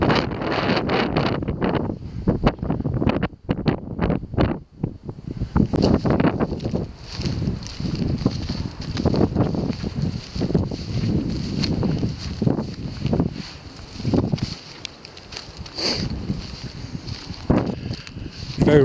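Strong night wind buffets a handheld microphone outdoors near a farmhouse, gusting in heavy, uneven roars that come and go throughout, with brief lulls and faint rustling.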